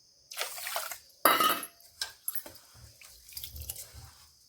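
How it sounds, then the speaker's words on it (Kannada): Sona Masoori rice washed in water in a metal vessel, with splashing and sloshing bursts, dripping and light clinks of the pot between them, close and fairly quiet, without speech. "ಇನ್ನು ಅಕ್ಕಿ ತೊಳೆಯೋದು"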